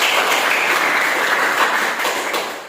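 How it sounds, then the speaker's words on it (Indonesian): Classmates in a classroom applaud a student group that has just finished presenting, a steady, moderately loud patter of many hands that holds throughout and tapers slightly at the end, with no talking. "Berikan tepuk tangan."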